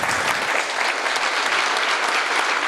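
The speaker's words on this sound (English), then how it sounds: "Give them a round of applause." A Lean Startup Melbourne presentation audience breaks into dense, sustained applause, loud and even throughout, with no voices rising above the clapping.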